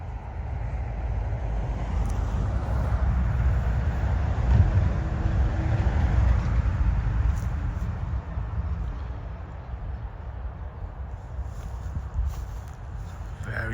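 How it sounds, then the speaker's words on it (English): Steady low roar of traffic on a busy main road used by commercial vehicles, a continuous rumble that swells and eases slightly as heavy vehicles pass at a distance. "Very busy road for commercial traffic, very noisy"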